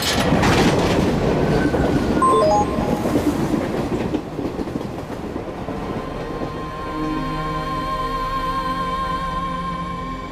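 A passenger train runs on rails with loud rhythmic clickety-clack and rumbling wheels that fade after a few seconds into a quieter ride with faint tonal hum and brief high squeals.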